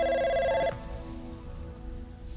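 A telephone rings loudly with a bright, steady electronic tone for about two-thirds of a second, then cuts off, leaving a quiet room.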